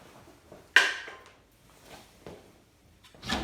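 A drain hose being pulled off a Simpson washing machine during drain pump replacement: one sharp plastic clunk, then a few softer knocks and a final rattling scrape, close by and otherwise quiet.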